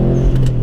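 A Subaru WRX STI's flat-four boxer engine gives a brief, steady, throaty drone at close range, heard alone with no talking.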